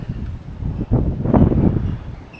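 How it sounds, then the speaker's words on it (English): Gusty wind buffets a microphone outdoors during metal fabrication of DIY stainless steel fender flares for a 4x4, rising to a louder rumbling gust midway, then easing. "Sorry about the wind."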